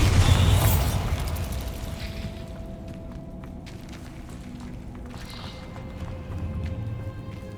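A Bombarda spell explosion in Hogwarts Legacy, a loud low blast at the start that fades into a lingering rumble, followed by quieter ambient game sounds.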